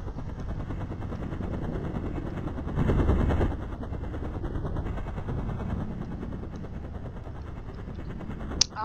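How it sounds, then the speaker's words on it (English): A helicopter in the Roblox game Bayview RP thrums continuously with a rapid rotor chop and a steady whine, swelling briefly louder partway through, with a sharp click near the end. "This is also my first time flying a helicopter."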